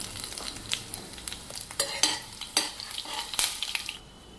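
Garlic slivers, fenugreek and mustard seeds frying in hot oil for a ginger curry, steady crackling sizzle with sharp seed pops and clinks of a spoon stirring in the pan, close by.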